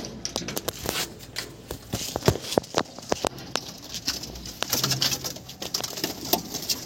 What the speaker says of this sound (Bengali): তো চলুন পায়রাগুলো দেখাই।